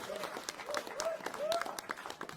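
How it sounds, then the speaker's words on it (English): Steady applause and clapping fill the room during wedding speeches, with a voice speaking over the crowd throughout. "Really, really big round of applause for all of you."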